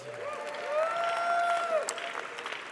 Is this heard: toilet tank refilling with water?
no